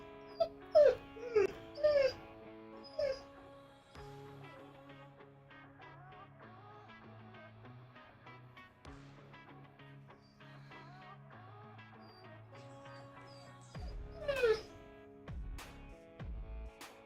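A puppy whimpers and yips in high, wavering cries near the start, falls quiet for a stretch under soft background sounds, then whines again toward the end, faint and close.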